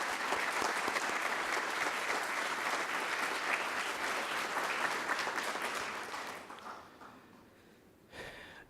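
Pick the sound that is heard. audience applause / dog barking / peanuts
audience applause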